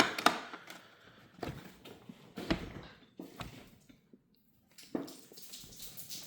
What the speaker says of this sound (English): That's the sound of water coming out the cup.